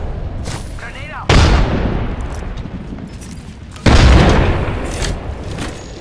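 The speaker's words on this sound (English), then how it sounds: "Grenade out! Grenade out!" Grenade blasts in the Apex Legends battle royale game, two loud booming explosions about two and a half seconds apart, each followed by a rumbling decay over dense gunfire and game noise.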